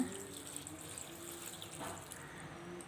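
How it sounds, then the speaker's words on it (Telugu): Quiet, steady trickle of water pouring into a pressure cooker of spinach and lentils, with faint background hum. "ఇప్పుడు మనము దీంట్లో వాటర్ వేసుకుంటున్నాము"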